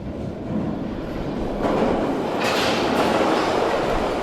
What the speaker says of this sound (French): Entendez-vous? Le métro s'en vient.